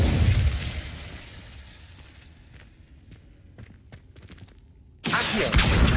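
An Incendio fire spell in a wizard game goes off with a loud opening blast that fades into faint scattered crackles and ticks, then a second burst erupts abruptly near the end.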